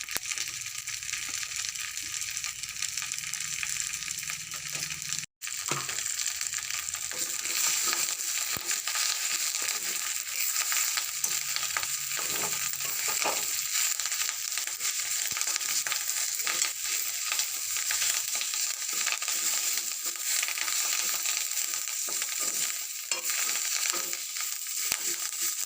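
Chili flakes roasting in a pan give a steady, close, fine crackling sizzle that runs on without a break, apart from a brief dropout near the start.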